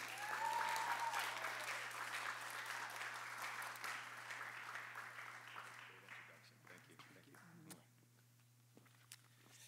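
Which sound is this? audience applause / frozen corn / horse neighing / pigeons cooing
audience applause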